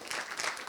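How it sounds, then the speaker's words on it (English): Indoor audience applause at a talk or workshop session, a steady wash of many hands clapping, moderately loud and continuous throughout, with faint voices underneath. "you definitely deserve a round of applause"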